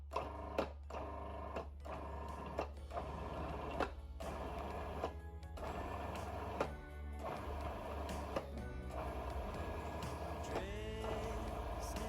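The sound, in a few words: food processor pulsing mince pie pastry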